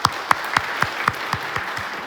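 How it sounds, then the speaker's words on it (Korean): A church congregation claps together in a steady, even rhythm, about four claps per second, each clap clear and sharp. "우리 하나님께 영광의 박수 올려드리도록 하겠습니다"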